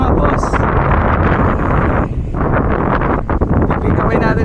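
Strong wind buffets the microphone during a bike ride, producing a loud, constant roaring rumble with gusty fluctuations; someone speaks intermittently under the noise.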